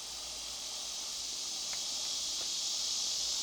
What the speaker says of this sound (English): The cicadas picked up ahead of us.